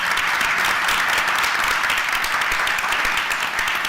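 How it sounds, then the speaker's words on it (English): A board of education meeting audience gives a big round of applause. The clapping is close, loud and sustained, with no pause. "How about a huge round of applause?"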